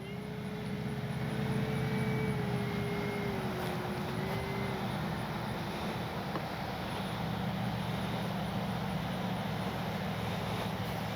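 An FMS P-47 Thunderbolt RC warbird model plane coming in to land with flaps down, its steady electric motor whine and whirring drone continuous and fairly close, with a rising and falling tone, alone without talk.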